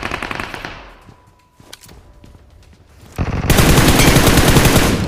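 Gunfire in a battle royale video game: a burst of shots fades out, a few scattered shots follow, then sustained loud rapid automatic fire fills the final seconds.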